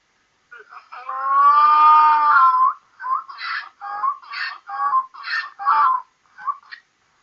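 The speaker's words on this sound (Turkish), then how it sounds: "Peki eşekler nasıl ses çıkarır?" A donkey brays loudly nearby: one long drawn-out call, then a rhythmic run of wheezing hee-haw pulses.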